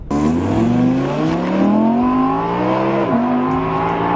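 An Audi R8 sports car on a circuit revs hard through rising gears, the engine note climbing, dropping at each shift, then climbing again, loud and close, with no talk.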